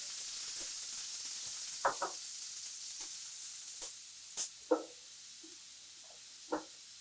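Oil hitting a hot pan ahead of cooking papas bravas, a steady soft hiss with several short crackling pops scattered across it, faint and close, no talking.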